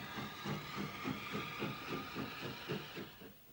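Steam locomotive passing with a steady rhythmic chuffing, evenly spaced beats over a broad hiss of steam, moderately distant.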